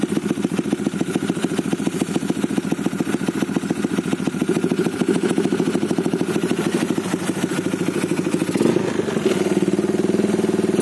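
Yamaha 135LC Spec 65 motorcycle engine, two weeks unused, running after a cold start: a steady, rapid, clattery idle held close and loud throughout, with a brief blip of revs near the end.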